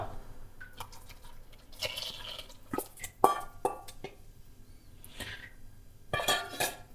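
Ground paste thinned with water poured into a simmering Malappuram-style chicken curry, with soft liquid splashes and drips, scattered sharp clicks and scrapes of utensils against the pot, fairly quiet and close.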